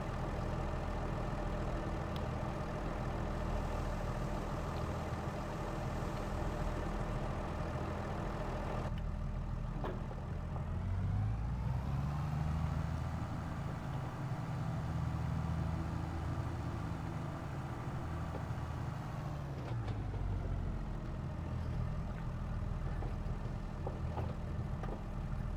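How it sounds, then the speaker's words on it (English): A tractor engine in Farming Simulator 22 drones steadily and faintly throughout, its pitch rising midway as it revs up for several seconds and then settling back to a lower hum, with no voices. "So jump in our tractor here."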